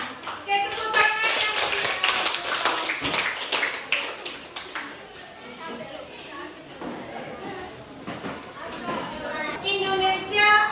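A classroom group of students claps in quick, uneven bursts of many hands, close and lively, while voices talk and chatter over it throughout.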